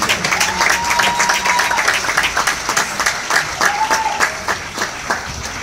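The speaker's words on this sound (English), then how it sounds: "a round of applause for this cast and the incredible movie they put together." An audience at a movie Q&A claps steadily for the cast of the film, dense sustained applause with a few cheers and whoops rising over it, and brief voices mixed in.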